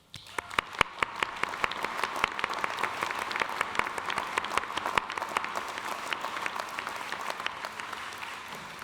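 Applause at a graduate school commencement ceremony, many individual claps audible as sharp distinct hits building into steady, moderately distant clapping from the gathered audience over several seconds.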